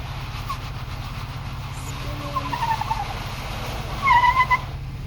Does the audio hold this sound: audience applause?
no